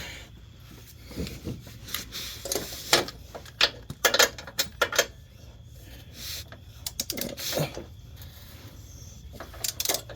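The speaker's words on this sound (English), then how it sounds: "Let's go over here and torque this bad boy down." A torque wrench tightens an engine mount bolt on a 2009–2015 Cadillac CTS-V, giving a series of sharp metallic clicks and ratchet ticks in irregular bursts against quiet background, close up and alone.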